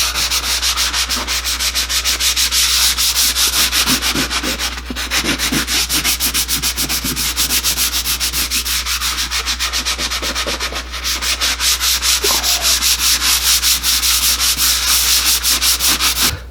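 Drywall patch compound over mesh tape being sanded down level: a loud, continuous abrasive rubbing runs steadily for the whole stretch, with rhythmic back-and-forth strokes and no voices.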